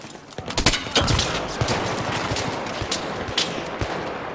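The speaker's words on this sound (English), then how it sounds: "Oh, I'm getting sniped at." Repeated gunfire in a video-game firefight, sharp cracks scattered irregularly over a dense, noisy background of shots, some near and loud, others farther off, with no talking.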